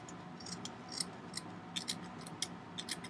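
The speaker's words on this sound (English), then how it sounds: "then I take my scissors and insert them into the center of that, and then cut that edge" Soft, crisp snips of scissors cutting the edges of a pom pom, a quick irregular run of small clicks against a faint background hush.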